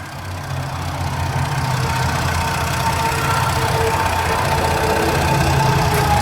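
A 2015 Ford Expedition EL XLT's turbocharged engine idles with a steady, quiet, even hum, heard up close with no voices.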